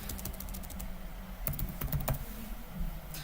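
Keys on a computer keyboard tapped in bursts while entering text into a hospital prescribing system, clicks close and clear over a steady background hum, with no voices.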